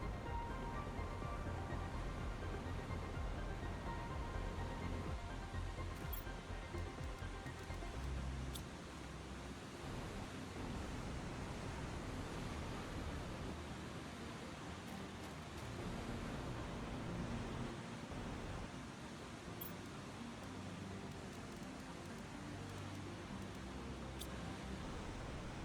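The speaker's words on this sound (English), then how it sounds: "I found this beautiful, stunning waterfall." A stunning waterfall in the Planet Crafter video game roars as a steady, dense wash of rushing water, continuous and fairly loud throughout with no voices.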